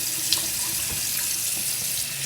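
Water runs steadily from a bathroom faucet into a sink while someone rinses their face, a continuous close hiss and splash with faint bits of splashing and no talk.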